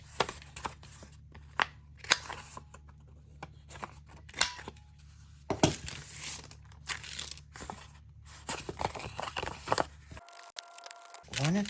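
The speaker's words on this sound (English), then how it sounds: "let's just fold it and give it a little cut" Scissors cutting a folded wide paper tag: a series of short, crisp snips and crinkles up close, spaced irregularly with quiet gaps, followed by a brief paper rustle at the end.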